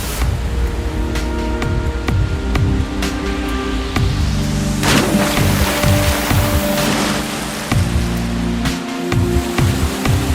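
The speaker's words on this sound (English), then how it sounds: "The gushing rapids make for one of the best rafting experiences down south." Gushing rapids on the Kali river roar in a loud, continuous broadband rush, with a brief lull before a surge and faint tonal hum layered underneath.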